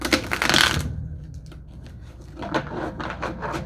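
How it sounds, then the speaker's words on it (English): A burst of rapid papery riffling as tarot cards are shuffled, followed by softer scattered taps and slides of cards being handled. "so I will shuffle them into the deck and see if they come back out"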